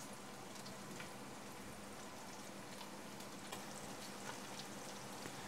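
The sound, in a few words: chorizo frying in a pot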